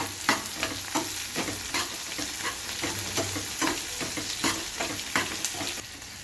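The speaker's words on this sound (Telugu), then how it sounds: "ఉల్లిగడ్డ ముక్కలు వేసుకోవాలి. పచ్చిమిరపకాయ ముక్కలు వేసుకోవాలి." Onion and green chilli pieces fry in a pan for majjiga charu, a steady sizzle with repeated scraping stirs at an even pace, close and moderately loud, no voices.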